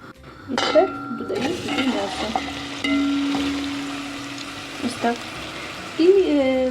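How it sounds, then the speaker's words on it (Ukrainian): A metal pot clanks down onto a heat diffuser on a stovetop, followed by scraping and a sustained ringing tone, with light kitchen clatter and a voice nearby. "поставила ось я на вогонь розсіювач, ставлю кастрюлю"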